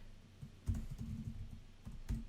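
Typing on a Chuwi Lapbook SE laptop keyboard gives soft, quick key clicks in small uneven bursts, close up and fairly quiet, with no talking.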